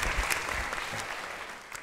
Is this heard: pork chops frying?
no